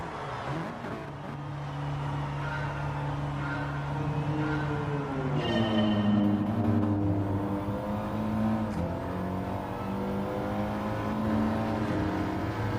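A race car engine in the GT Sport video game roars loudly at the race start. Revs climb and drop through several upshifts while other cars drone nearby.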